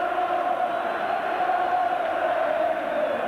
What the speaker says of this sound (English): the crowd have only one name on their lips